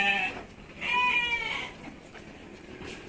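Dorper sheep on a dim farm bleat twice, with clear nasal calls close by over quiet background noise.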